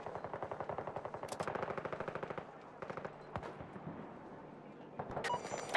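Rapid machine-gun fire rattles steadily for several seconds, followed by scattered shots and a louder blast, with a tank in the fight during a Battlefield 2042 battle; no talking.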